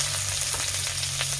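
A dried red chili and whole cumin seeds frying in hot oil, a dense unbroken crackling sizzle heard up close and loud, with a faint low hum beneath.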